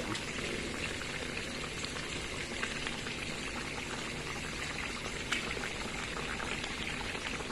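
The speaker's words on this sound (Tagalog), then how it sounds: "Yan, kumukulo-kulo guys." A steady, dense bubbling and hissing of a pot of eggplant and vegetables at a rolling boil, continuous throughout with small pops and spatters, no talking.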